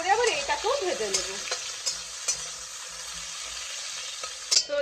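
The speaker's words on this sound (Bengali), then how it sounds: "সেইগুলোকে আমি তেলে লাল লাল করে আবার এইটাকেও ভেজে নেব" Long strips of bitter gourd sizzle steadily in hot oil while being stirred, with a bright crackling hiss and a few sharper scraping clicks; a whistling tone rises and falls at the start.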